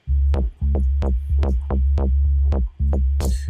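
A deep synthesizer bass pulses in a steady rhythm, each note sweeping open with a filter, repeating about eight times.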